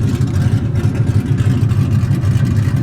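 A cammed Ford Mustang 4.6 mod motor with stage 1 cams and straight pipe axle dump exhaust idles loudly up close, its low rumble choppy and pulsing steadily.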